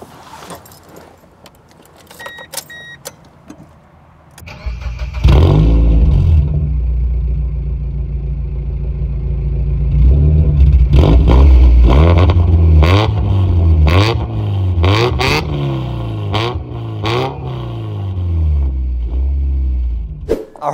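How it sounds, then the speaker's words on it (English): A Mazda Miata's aftermarket exhaust starts up after a few key jangles, then idles loud and close before being blipped through repeated sharp revs with a deep rumble between them. "Let me show you guys what this exhaust sounds like."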